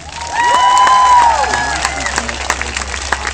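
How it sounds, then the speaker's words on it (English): Schoolchildren at an elementary school Red Ribbon assembly break into applause and cheering, a loud burst of clapping and shouting voices swelling then thinning out, with whistle-like tones over it. "Let's give her a round of applause."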